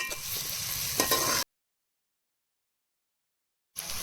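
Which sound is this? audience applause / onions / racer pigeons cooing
onions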